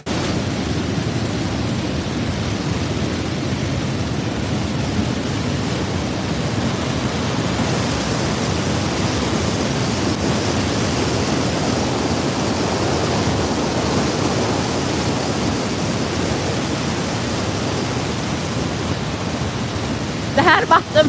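Waterfall in Jämtland, Sweden, heard from right beside the rapids, a loud, steady, broadband roar of rushing water that continues unbroken with no talk.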